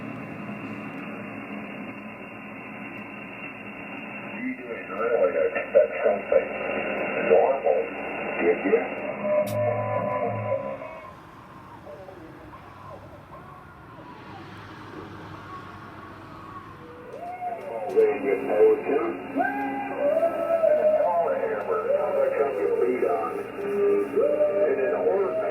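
A shortwave pirate radio station, XFM, comes through as a band-limited broadcast voice and music under hiss and static, fading into noise midway before the signal returns.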